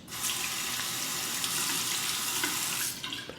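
A razor is rinsed under a running tap, a steady close rush of water hitting the blade and sink for about three seconds before it stops.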